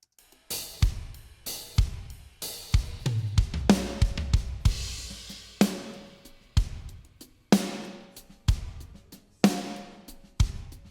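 A drum kit mixed in Pro Tools with EQ, compression and stereo widening plays a steady groove of punchy kicks, snare hits and crashing cymbals, loud and upfront with no voices.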